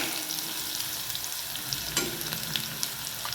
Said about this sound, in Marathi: बारीक चिरलेली हिरव्या मिरच्या, लालसर भाजून घ्यायचे आपल्याला।